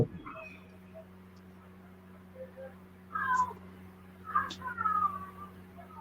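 Faint cat meows, a few short calls in the distance, heard behind a low steady electrical hum at the end of a quiet stretch.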